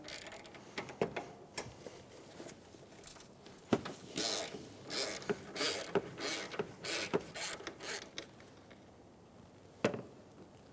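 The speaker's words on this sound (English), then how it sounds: "Using a 10mm socket, remove the bolt for the return line." Ratchet clicks and metallic taps from a 10mm socket wrench loosening a power steering return line bolt on a 2007-2011 Toyota Camry, a series of short close rattling bursts with pauses between them.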